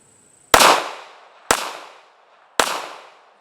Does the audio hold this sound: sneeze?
no